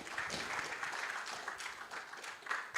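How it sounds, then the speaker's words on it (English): Subdued, tired-sounding clapping from a conference audience at a digital asset summit, a thin, steady patter of hands heard at some distance, faint overall and alone without voices. "You are clapping like you're exhausted."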